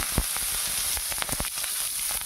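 Chopped onions frying in oil left over from frying fish, a steady close sizzle with a few sharper crackles and spatters, no voices.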